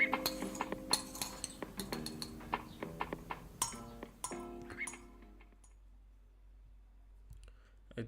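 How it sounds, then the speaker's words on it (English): A metal spoon clinks repeatedly against a dish in small, irregular taps for about five seconds, close and clear, then fades into near silence. "Sound of eating something with the spoon"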